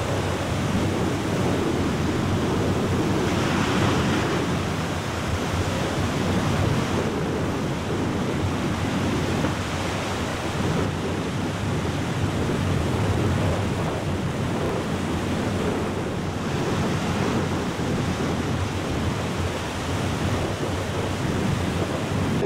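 Strong wind roars steadily across a small private beach in Ballito, blending with a constant wash of surf, loud and unbroken throughout, with no talking.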